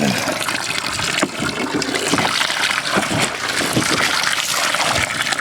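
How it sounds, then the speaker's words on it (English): Water splashes and gushes steadily as liquid is poured out, a continuous rushing spill close by. "Let me pour this out."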